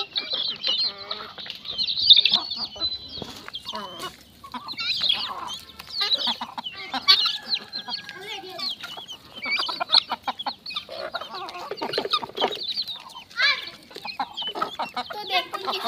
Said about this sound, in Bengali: এটা হচ্ছে আমাদের ব্রাহ্মা মুরগি